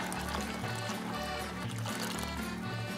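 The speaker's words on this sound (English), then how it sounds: "So I'm gonna add a little more water" Water pours into a cooking pot of chiltepin peppers on a stove, a steady trickling splash that runs for a few seconds under a low hum.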